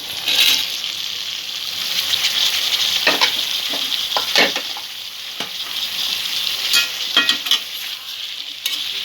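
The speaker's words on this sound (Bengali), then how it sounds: "পেঁয়াজ আর টমেটোর সঙ্গে আলুটা একটু ভেজে নেব। কাঁকরোলটাও দিয়ে দেবো।" Potato and kankrol (spiny gourd) fry with onion and tomato for a kankrol curry, a steady close sizzle broken by several sharp scrapes and clinks of a spatula stirring the pan, no voices.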